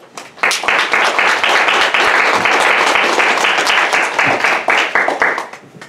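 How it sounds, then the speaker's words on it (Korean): A church congregation at a Korean Baptist service bursts into loud, sustained applause welcoming a visiting pastor to the front, steady clapping that swells and tapers off at the end. "큰 박수로 우리 환영하겠습니다"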